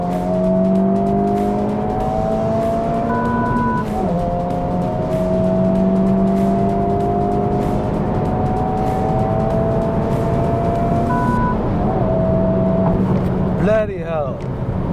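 A new Honda Civic Type R's engine and exhaust drone loudly and steadily at close range, with rising and falling pitch through gear changes and a brief burst near the end.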